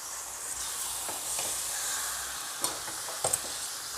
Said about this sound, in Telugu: ఇప్పుడు నేను దీంట్లో చికెన్ వేస్తున్నానండి చికెన్ వేసేటప్పుడు హై ఫ్లేమ్ పెట్టుకోవాలండి